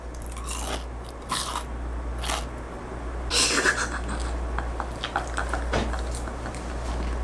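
Homemade kohakuto sugar candy is bitten and crunched up close, with several crisp bites followed by quieter chewing over a low background hum.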